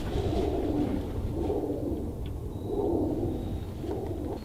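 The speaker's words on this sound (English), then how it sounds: "It sounds like a bunch of pigeons" Several pigeons coo inside a smokestack in soft, repeating low rumbling phrases that echo in the hollow enclosed space, steady and fairly close.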